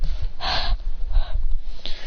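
A narrator's voice imitates a heavy, gasping breath, with a couple of breathy bursts and a snort-like exhale, close and fairly loud with no words.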